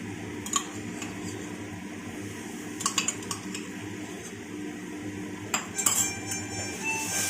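Prawns being mixed with yogurt and spices in a pan bring a series of close metal clinks and scrapes from a spoon against the pan. The strokes come in irregular bursts over a quiet, steady background hum.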